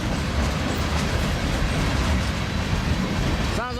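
An HO scale model mixed freight train with CNW locomotives runs along the track, giving a steady, close rumble and clatter that holds throughout, with a brief wheel squeal right at the end.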